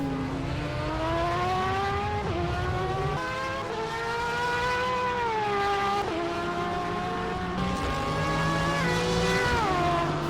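Straight-cut 6-speed constant-mesh gearbox race car in a racing video game, engine whining steadily and loudly with several quick pitch drops from fast upshifts, other cars audible alongside.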